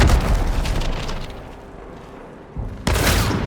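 A dynamite stick blows up in the shooter game Hunt: Showdown, a loud rumbling blast that decays over a few seconds before a second sharp, bright burst cuts in near the end.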